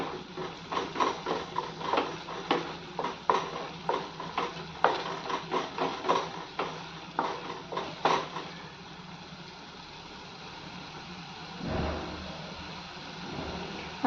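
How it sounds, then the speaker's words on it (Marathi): Masala paste for bhindi masala roasts in oil while a spoon stirs it in regular scraping strokes for about eight seconds, then a quieter low sizzle carries on alone. "पेस्ट पण आपली छान अशी भाजत आली. त्याला तेल सुटेपर्यंत भाजायचं"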